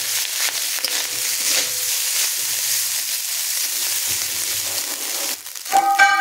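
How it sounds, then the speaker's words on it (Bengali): Cooked rice seasoned with a little sugar and salt fries in a pan, a continuous close sizzle broken by occasional spatula scrapes, with a sharper metallic clatter near the end. "ভাতটাকে আমি সুন্দর করে ভেজে নেব"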